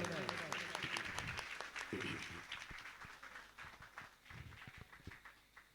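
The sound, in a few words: audience applause honouring a saint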